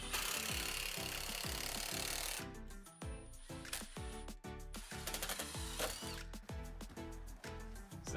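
A power drill drives screws into 1/4-inch plywood wall panels inside a Sprinter van conversion, giving a steady run of short, close bursts with a whining ratchet edge and no talk.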